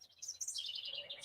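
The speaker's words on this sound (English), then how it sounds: "you can hear the birds chirping." Small birds chirp in a quick, high-pitched twittering burst, faint and somewhat distant, with no other sounds.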